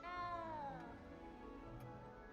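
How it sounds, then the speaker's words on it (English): A frightened cat in Hogwarts Legacy lets out one long, drawn-out meow that slides downward in pitch and then fades into a faint, low game ambience. "Frightened little cat. There's a cat."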